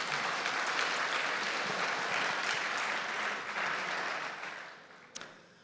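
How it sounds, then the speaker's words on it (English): An assembly hall audience at a World Trade Centers Association general assembly applauds itself, a dense sustained round of clapping that holds steady and then tapers off toward the end, with a lone clap or knock after it fades. "Please give yourselves a round of applause."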